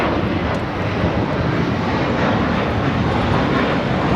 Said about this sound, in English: Turkish Flight 180 taking off to Istanbul on the A350-900